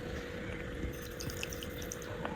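Warm water poured into flour in a cup for pizza dough, a faint steady trickling stream with small splashes, heard alone.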